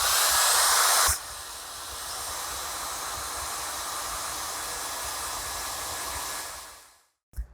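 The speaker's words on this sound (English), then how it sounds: "If you have a blow dryer with you, that's great. I'm going to use mine right now really quickly" A handheld blow dryer whooshes close and loud at high setting, then drops to a softer steady hiss for several seconds while drying paint on a children's tree painting before switching off, followed by a couple of faint knocks.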